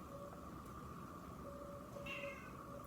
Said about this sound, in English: What is it, Kitty? Are you going back out